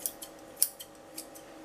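Kitchen scissors snip raw trout into cubes, a few crisp, quiet cuts spaced irregularly over a faint steady background hum.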